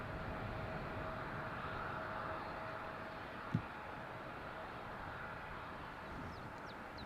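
Boeing Dreamliner airliner climbing out from Schiphol runway 36L, a steady distant jet roar that holds evenly throughout, with one brief thump midway and no talking.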